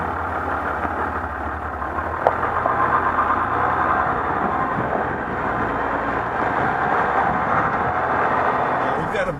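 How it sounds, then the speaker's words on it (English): A 2014 Ram 1500 EcoDiesel pickup's diesel engine idles steadily as a low, continuous rumble, heard from inside the cab throughout at a constant level with no clear revving. "It sounds like a diesel car engine, basically."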